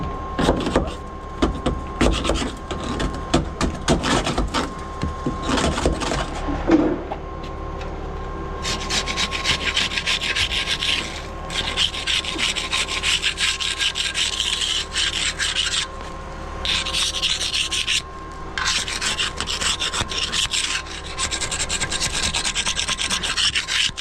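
A carbide-tipped Goodson Super Scraper scrapes concrete buildup off a concrete pump hopper lid, a loud, steady rasping grind close by with repeated strokes and short breaks, no talk.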